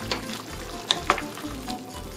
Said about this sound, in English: We got soup cooking down.